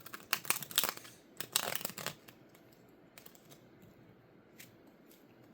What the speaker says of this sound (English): Can we get a proper shuffle